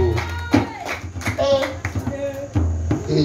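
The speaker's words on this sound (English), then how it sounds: "Somebody clap." Church congregation clapping hands during a sermon, a burst of claps blending with voices and a child's speech over a busy, reverberant room.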